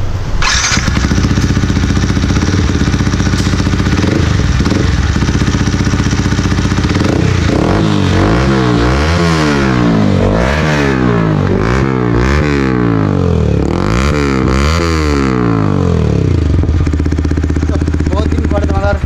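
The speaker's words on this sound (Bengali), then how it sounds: "এক্সজস্ট মানে পাইপটা লাগিয়ে কেমন আওয়াজ দিচ্ছে, সাউন্ডটা ফিল করলে তোমরা" A motorcycle fitted with an Akrapovic exhaust idles loudly up close, then revs repeatedly in sharp rising and falling bursts, with a voice talking over parts of it.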